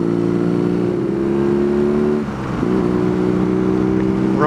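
BMW R nineT motorcycle on the road, its engine a loud, close, steady drone that briefly dips in the middle, as if easing off, then picks back up.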